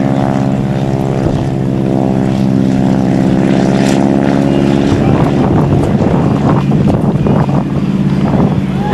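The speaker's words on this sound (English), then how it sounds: "When Gino comes back down, he'll bring the airplane into center if he's given the time" A propeller airshow plane droning overhead at an air station airshow, a loud steady engine hum with strong harmonics, joined by gusty wind buffeting the microphone.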